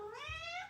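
A pet cat meows once, close and clear, a single rising-then-falling call as it waits to be fed in a home kitchen.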